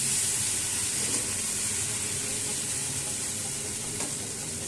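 Kachur lati, taro stolons, fry in a pan while being stirred, giving a steady, close hissing sizzle with faint scraping from the stirring.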